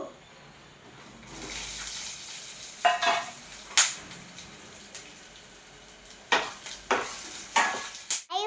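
Green chilli and chopped onion frying in a pan, a soft sizzle beneath repeated scraping and stirring strokes that come in short bursts, close by.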